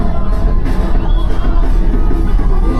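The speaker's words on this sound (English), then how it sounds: "That's the sound of Iranians in the streets of Los Angeles on Saturday as they welcomed the news" Iranians crowd the streets of Los Angeles in a celebration, a dense and loud wash of cheering, shouts and whoops that carries steadily throughout.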